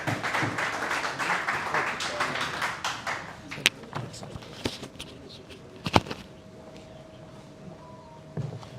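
Audience at a tax bar association lecture in Multan applauds to welcome a speaker, with dense clapping for about three seconds that thins to a few scattered claps and taps. Quieter stretches follow, with a voice faintly present.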